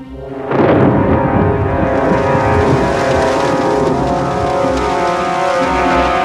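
A heavy, sustained rumble of thunder rolls in suddenly and continues loudly, deep and broad, without voices.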